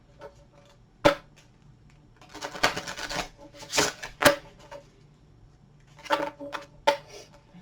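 A deck of playing cards shuffled in a few separate bursts of riffling and snapping, with sharp slaps between them, close and fairly quiet, no voices.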